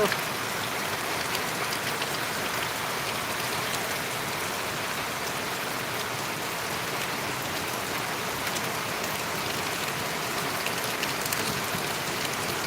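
Steady rain pours down in a village during the monsoon, a dense, even hiss of drops on surfaces that holds constant and close throughout with no break or variation.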